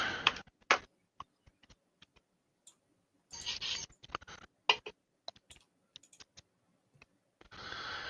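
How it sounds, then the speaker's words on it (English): Scattered computer keyboard typing comes through as sparse individual key clicks with a few quick bursts of rapid keystrokes, close and crisp against a silent background. "I want everybody to quit typing"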